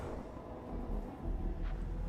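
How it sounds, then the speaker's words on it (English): A train rumbles by in the background, a steady low rolling drone that swells slightly partway through, with no voices over it. "Sorry if you can hear a train in the background."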